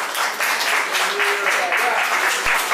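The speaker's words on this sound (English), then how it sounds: "Y'all give him a round of applause." Audience applause and a few cheers for a young boy who recited the Ten Commandments at a children's church lesson, a steady dense wash of clapping with some voices over it.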